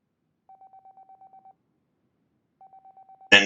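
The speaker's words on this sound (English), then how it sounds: "Then Canaan's phone rang, and she reached to answer it." A phone signal in an audiobook scene: a fast run of identical electronic beeps, then a pause and a shorter second run, clean and isolated, cut off by a sudden loud noise at the end.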